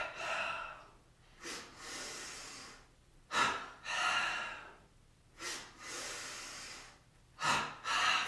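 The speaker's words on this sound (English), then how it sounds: "two inhales through our nose and two exhales out our mouth" Paired breaths during a power yoga session, two inhales through the nose followed by two exhales out the mouth, repeating in a steady cycle, close and clearly audible with no talking.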